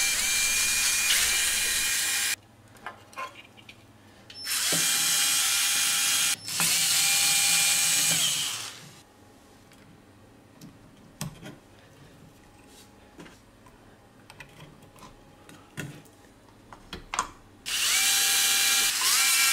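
An electric scooter fitted with drone motors makes a lap, its loud high-pitched motor whine surging in long bursts, dropping away between runs to quieter clicks and rattles, then rising again at the end.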